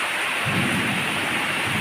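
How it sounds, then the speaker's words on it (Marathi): Heavy pre-monsoon rain in Pune, India pours in a dense, steady roar while a low rumble of thunder rolls underneath. "तसा पाहिला तर बऱ्यापैकी मोठा पाऊस"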